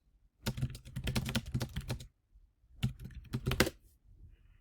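Rapid keystrokes on a computer keyboard arrive in two close, clattering bursts separated by a short pause, with no voices.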